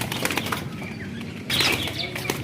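A golden flying pigeon beats its wings in a few quick, close flapping bursts, with one louder flurry midway through.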